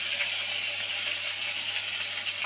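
Chopped tomatoes and green chilies in hot oil give off a steady, close, hissing sizzle that holds evenly throughout with no voices.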